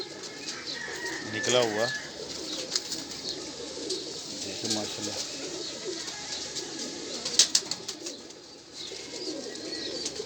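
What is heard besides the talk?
high flying pigeons cooing and flapping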